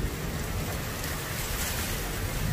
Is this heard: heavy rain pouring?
yes